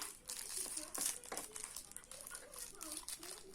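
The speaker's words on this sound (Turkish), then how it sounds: "Paketini açacağım" Plastic packaging around a child's toy being unwrapped, giving continuous close crinkling and rustling with occasional sharper crackles, while children's voices murmur underneath.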